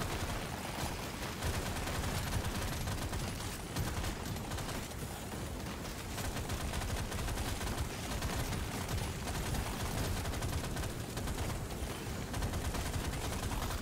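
Mining turrets in the Deep Rock Galactic: Survivor game fire continuously, a steady dense rattle of gunfire layered with busy game noise at constant loudness, with no voices.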